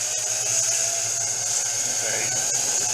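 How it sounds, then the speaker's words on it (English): A part being sanded to a polish while it spins on a late-1800s Seneca Falls lathe. A steady, close, high-pitched whirring rasp holds over a low motor hum, continuous and unbroken. "I'm just sanding off the last little bit to polish it."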